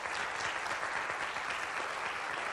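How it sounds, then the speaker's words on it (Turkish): A studio audience applauds a contestant in a water game show, steady dense clapping from many hands at moderate distance, continuous and unbroken for the whole stretch. "Seni kutluyoruz ve alkışlarınızla gönderiyoruz."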